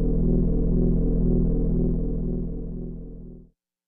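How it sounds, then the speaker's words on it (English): A buzzy, pulsing low synth bass tone from a Roland GR-55 guitar synth holds steady for a few seconds, then fades out and cuts off abruptly, with nothing else heard. "here's like a really old, nasty synth bass kind of sound"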